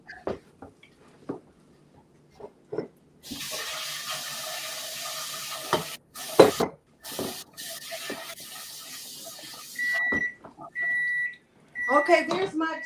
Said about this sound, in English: Okay, there's my timer.